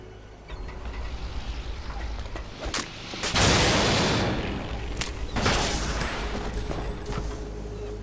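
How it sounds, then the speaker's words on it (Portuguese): Magnum gunshots in the Metal Gear Solid 2 video game, with several sharp loud reports over a steady game backdrop, the strongest blast near the middle of the clip followed by a long decaying tail. "O Snake tá com uma Magnum ali, você viu? Destruindo o drone com um tiro só, né?"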